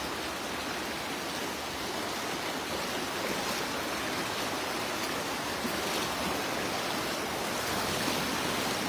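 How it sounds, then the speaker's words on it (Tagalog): A strong river current rushes steadily past at a fishing spot, a dense broadband roar of flowing water that stays even and fairly close throughout, with no voices. "Malakas na yung agos dyan."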